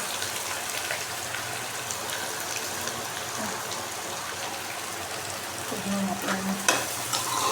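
Onions frying in a pan for baingan bharta, with a steady broadband sizzle throughout and occasional stirring scrapes, a brief louder clatter near the end.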